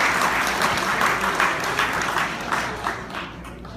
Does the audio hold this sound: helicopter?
no